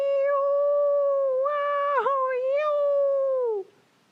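A human voice imitates a coyote howling a song, one long sustained wavering howl with pitch bends and a yip-like break midway, loud and close, ending abruptly.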